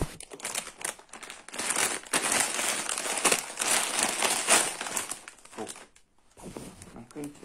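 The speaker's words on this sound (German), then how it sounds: "Und ich mache die Tüte jetzt mal auf." A crinkly plastic candy bag is torn open and crumpled, with dense crackling and rustling over several seconds, close up, while someone talks over it.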